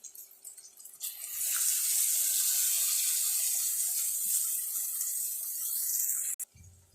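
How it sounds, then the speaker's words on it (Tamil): Water runs steadily into a pan of Sri Lankan prawn curry gravy made with coconut milk, a loud continuous pouring hiss lasting several seconds after a brief quiet start, then cutting off abruptly. "இப்போ அது கூட கொஞ்சமாக இன்னும் தண்ணி சேர்த்து ஊற்றிடலாம்."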